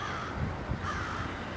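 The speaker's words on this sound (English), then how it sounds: "You can hear the crows in the background." Two short, hoarse crow caws carry from a distance in snowy woods against a steady wash of outdoor noise.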